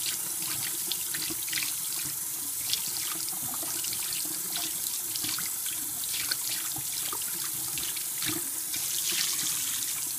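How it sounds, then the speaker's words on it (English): Hot tap water streams steadily through a saltwater aquarium sponge filter as it is rinsed and squeezed, a continuous close splashing and gushing into a sink. "You want to go ahead and run it through the hot water, squeeze it out"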